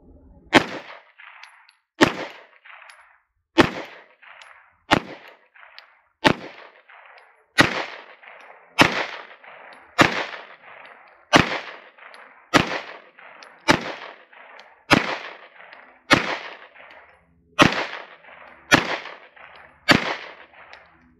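An FN 509 pistol fires Remington UMC 115 grain rounds in a long string of about seventeen loud, sharp shots. The shots are spaced roughly evenly, each followed by a brief echo, and there is no talk over them.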